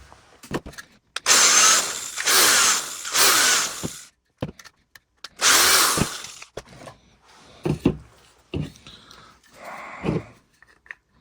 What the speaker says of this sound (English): we're going to drill these holes. Use a 1/8 drill bit.